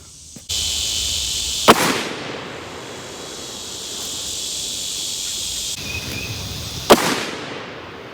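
Two loud, sharp 6.5 Creedmoor rifle shots with Hornady 123 SST box ammunition, spaced about five seconds apart over a steady high hiss of outdoor insects.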